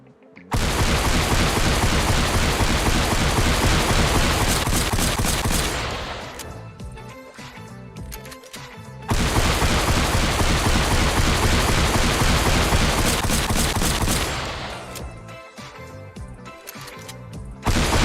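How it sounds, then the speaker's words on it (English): Autoshotty shotgun in Fortnite, using the Room Sweeper shotgun sounds from Save the World, firing in two long dense bursts of rapid, loud, close blasts, each trailing off into a quieter pause. "This gun uses the model and sounds of the Room Sweeper shotgun from Save the World."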